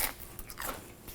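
Crisp crunching bites into radish on ahi tuna poke nachos with soy and sesame, a few close, sharp crackles in quick succession, quiet and without talk.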